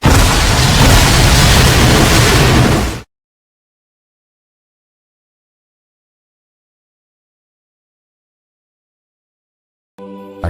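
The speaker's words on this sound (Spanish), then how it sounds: "Aquella explosión tan colosal dejó a Conan temblando del miedo" A colossal explosion booms loud and dense for about three seconds, then cuts to silence before a faint stir of sound returns near the end.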